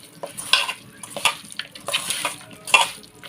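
Chicken pieces are being tossed by hand with salt and chilli powder in a village-style kitchen, making soft, wet, squelching stirs and light clatters of a vessel in several short irregular bursts, close and moderately quiet, with no talking.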